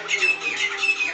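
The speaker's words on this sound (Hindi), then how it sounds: "दोपहर का टाइम में देखिए चिड़िया चहचहा रही हैं" Birds chirp and squawk in short, bright repeated calls at midday outdoors, fairly close and steady across the moment, with a faint low hum underneath.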